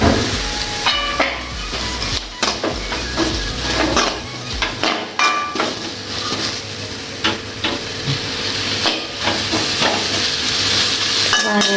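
Chopped leeks frying in a pan for chicken sausage fried rice, a loud, steady sizzle under repeated close scrapes and clinks of a utensil stirring against the metal pan.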